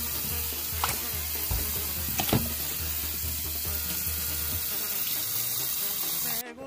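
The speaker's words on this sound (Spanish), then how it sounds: "Hay que lavarlo bien el pulpo." A small octopus is rinsed in a kitchen sink under a running tap, a steady hiss of flowing water with occasional splashes and handling knocks, cut off abruptly at the end.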